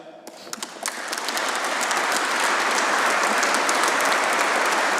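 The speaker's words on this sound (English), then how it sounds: "I'd like you to accept the applause of the evening" Audience applause at a Corps of Royal Engineers awards ceremony, starting with a few scattered claps and swelling within a couple of seconds into steady, sustained clapping from a large crowd indoors.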